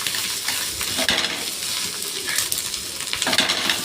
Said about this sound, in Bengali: এবার মাছের ডিমটা ভালো করে ভেজে নিচ্ছে